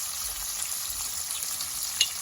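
Mushrooms and onions with green chillies and salt fry in a pan, making a soft, steady sizzle at low volume with no voices.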